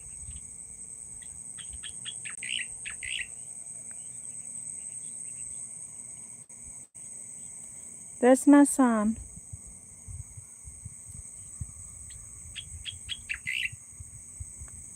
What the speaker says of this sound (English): I think the bird is here, inside of the bushes here.